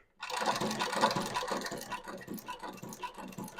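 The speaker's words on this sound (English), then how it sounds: "I'm going to use the scrolling function on the presser foot to show you that I can move the presser foot across the material without actually moving the material" A long-arm shoe repair sewing machine runs after a brief silence, giving a close, busy mechanical clatter with a rapid irregular rhythm and metallic rattles, and no talking.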